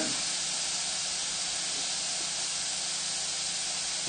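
Steady, unbroken hissing and bubbling of water boiling in a pot, even in level with no pauses.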